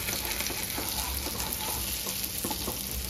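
Sardines fry steadily in a pan, a dense, continuous sizzle and crackle held close and loud throughout, with no voices over it.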